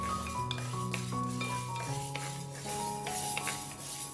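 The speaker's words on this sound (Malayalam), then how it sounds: "മുതിരയും റോസ്റ്റ് ചെയ്തിട്ട് മാറ്റി വയ്ക്കാം കേട്ടോ" Horse gram dry-roasting in a pan for Kerala Karkkidaka podi, giving a steady close scraping and stirring with light metallic clinks of the spoon against the pan, heard with no talking.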